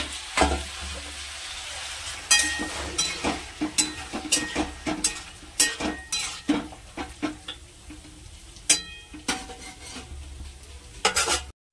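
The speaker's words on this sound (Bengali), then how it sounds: "এবার এতে মাংস দিয়ে আমি কষে নেব" Marinated mutton being fried with onions in a pan at home, a steady close sizzle broken by repeated sharp scrapes and clinks of a spoon stirring against the metal, with no talking.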